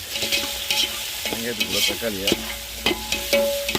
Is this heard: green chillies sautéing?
yes